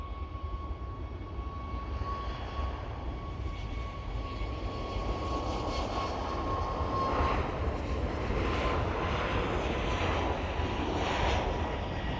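A Malta Air passenger jet takes off down runway 09, its engines a steady, rising roar heard from nearby on the airfield, growing slightly louder over the stretch with no talking.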